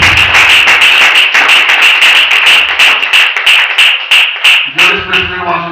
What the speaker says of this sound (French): Let's clap for the Holy Spirit.